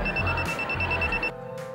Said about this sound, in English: This will send signal to the buzzer and the user will be alerted.